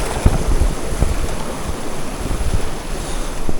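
Mountain streams rushing near Kolung waterfall in Nepal, a loud, dense, continuous roar of flowing water with gusty low buffeting from wind on the microphone, no voices.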